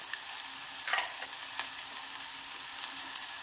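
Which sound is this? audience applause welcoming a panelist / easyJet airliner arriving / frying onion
frying onion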